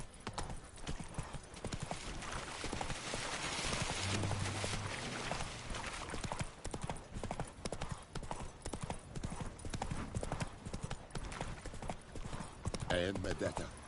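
Hoofbeats of Roach, the horse in The Witcher 3, clatter in a fast, steady gallop under game music, with a brief whinny, and someone talks over the riding now and then.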